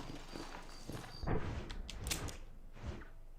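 Hooves of a horse walking in Red Dead Redemption, a few soft, fairly quiet clip-clops spaced unevenly and heard alone.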